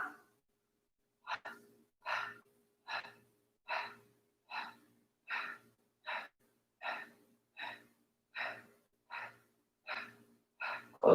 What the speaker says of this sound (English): And then exhale out the mouth.